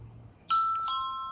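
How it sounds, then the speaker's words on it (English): A video doorbell camera sounds its electronic two-tone chime after the button is pressed, a clear, bright ding-dong ringing out loudly and sustaining to the end, following a quiet moment. "there's the doorbell, the indicator light's flashing"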